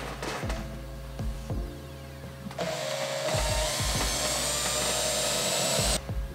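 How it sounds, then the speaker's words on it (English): A power drill whines up and bores into a double-skinned solar panel, with clicks and knocks before a steady high-pitched drilling run that stops abruptly near the end. "Let's drill some holes in the solar panel and we'll go from there."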